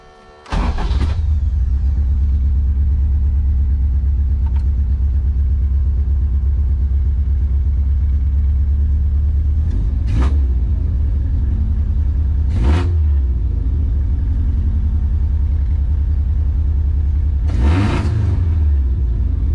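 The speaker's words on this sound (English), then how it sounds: "so let's give it a cold start and see." A Toyota AE86 cold-starts after sitting four years: a starter crank catches into a steady, loud, deep idle that runs throughout, with several short throttle blips rising and falling at intervals, recorded close with no talking.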